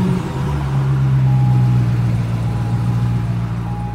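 A car engine cranks and catches, then settles into a loud, steady idle with a low droning hum, recorded close up.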